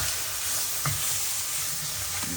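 Chopped vegetables for a Southern gumbo sauté in a pan with a continuous, even sizzle, joined by a faint utensil knock or two.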